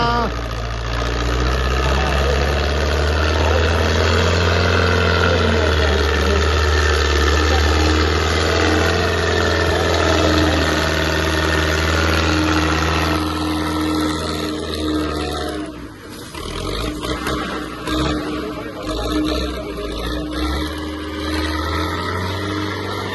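A heavy diesel tractor engine idles steadily and loudly up close at a tractor fair, a constant low rumble throughout with some brief mechanical clatter near the end.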